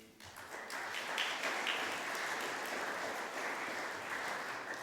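An audience at a housing rights conference claps steadily and warmly for several seconds, a dense, even applause that fills the room with no talk over it.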